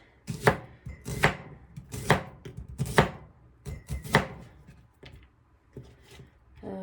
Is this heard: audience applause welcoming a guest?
no